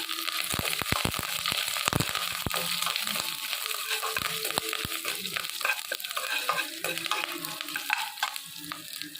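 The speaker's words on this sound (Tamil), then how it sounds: "இப்போ பச்சை மிளகா, வரமிளகா, இஞ்சி, கருவேப்பில்லை இதில் போட்டுக்குவோம்." Green chilies, dried red chilies, ginger and curry leaves crackle and sizzle loudly in hot oil in a pan for an Indian rice rava upma kozhukattai dish, with steady frying hiss broken by sharp spattering pops and stirring scrapes, no talking.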